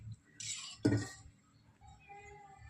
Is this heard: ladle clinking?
yes